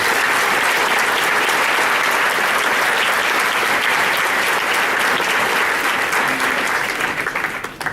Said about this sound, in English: give another round of applause to these outstanding students